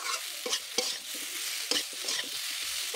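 Mankochu curry with ginger, cumin and dried chilli paste fries in a pan, a soft sizzle broken by repeated scraping stirs of the spoon, close and fairly quiet, with no talking.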